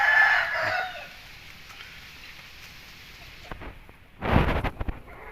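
A young Thai rooster gives a thin, scratchy crow, followed a few seconds later by a louder burst of clucking nearby.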